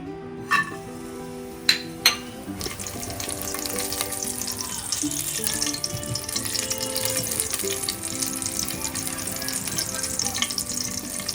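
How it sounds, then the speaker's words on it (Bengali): Cashews and raisins frying in ghee: a few sharp clinks at first, then a steady bubbling sizzle that continues throughout, fairly close. "এবার কাজু কিশমিশগুলো একটু ভেজে নেব"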